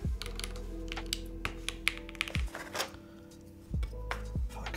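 Keys clacking on a custom-built Bina 103 mechanical keyboard, with quick irregular bursts of sharp taps over a low steady hum, fairly close and without speech.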